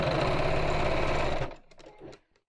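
A domestic sewing machine stitches through fabric in a fast, even mechanical whirr that stops abruptly partway, leaving a few faint clicks and handling sounds before falling quiet.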